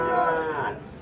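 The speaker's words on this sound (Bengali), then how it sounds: "এখানে একটা গাভী দেখাচ্ছে, দেশি গাভী" A local desi cow at a cattle market in Comilla gives a short, fairly close moo with a falling tone that fades out after under a second.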